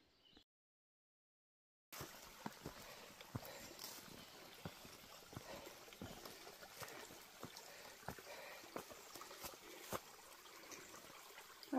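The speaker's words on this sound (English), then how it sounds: "I love the sound of running water" Running water flows near the Appalachian Trail in Virginia between Roanoke and Waynesboro, a faint steady trickle and gurgle of a small stream after a brief silence, with light ticking sounds over it.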